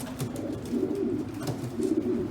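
A large racing pigeon coos steadily in a breeding loft, its low throaty calls pulsing in a continuous rhythm, close and fairly loud with no talk over it.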